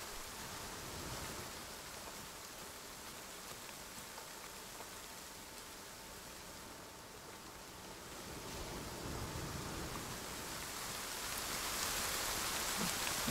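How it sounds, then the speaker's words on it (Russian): Rain falling in the survival video game The Forest, a steady soft hiss of drops on surfaces that swells a little toward the end, continuous and even, with no voices. "Слишком уж долгий дождик"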